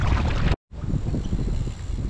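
Gusty wind buffets the microphone while paddling a canoe on an Australian estuary in wet, blustery weather. The rumble is loud and steady, broken by one brief dropout near the start.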